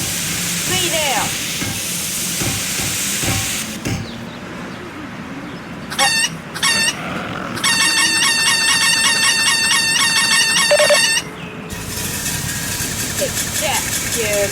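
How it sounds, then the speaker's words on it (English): A chicken launcher in a zombie video game fires chickens, with loud clucking and crowing bursts interrupted by sharp mechanical clatter and a rapid rattling stretch, then fading back to a lower rumble. "This is a chicken launcher."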